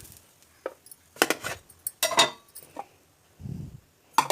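Clinks and scrapes of a metal utensil against a plate as a burnt millet dosa is lifted off the pan onto a plate, several short sharp clatters with a low thud near the end, close and fairly quiet.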